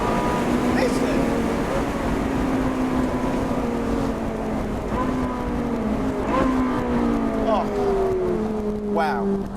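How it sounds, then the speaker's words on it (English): A Ferrari 458 Spider or Jaguar XKR-S sports car engine roars loudly and steadily with rising and falling revs, the harmonics sweeping through gear changes, heard close and continuous throughout. "The thing about the noise this car makes though, it's not just the level, it's the quality."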